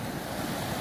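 Caribbean sea waves on a hotel beach in the Dominican Republic, a brief, dense wash of surf mixed with wind rushing across the microphone.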